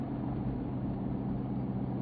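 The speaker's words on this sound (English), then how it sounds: "the truck runs just like you would expect it to for an OEM truck" A Factory Five XTF truck drives along a road, its engine giving a smooth, steady low hum with light direct-injection ticking, constant and close throughout.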